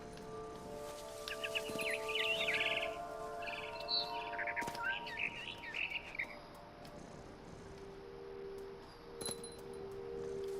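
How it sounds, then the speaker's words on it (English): A barn swallow chirps outside a window in the video game What Remains of Edith Finch, with bright twittering bursts over a soft ambient hum and insect-like background, fairly faint and without talking. "Then I heard chirping outside my window. It was a barn swallow going back to her nest."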